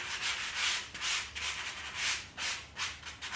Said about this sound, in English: We'll give it a light sand just to clean up the edges.